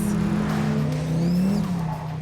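A Donkervoort D8 GTO sports car power slides, its engine holding a steady, loud drone with a brief rise in pitch and tyre noise mixed in.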